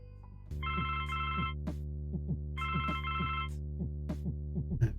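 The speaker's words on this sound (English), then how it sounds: "Fine, I'll answer the phone call." Telephone ringing in the adventure game Blackwell Legacy, two clear electronic ring bursts over a steady synth tone and soft piano notes, with no one speaking.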